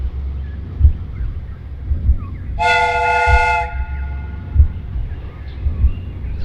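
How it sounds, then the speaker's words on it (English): A steam train whistle in a Sherlock Holmes video game blows one loud sustained blast of about a second over a rhythmic rumble of rolling rail cars. "The steam whistle is ready to be used."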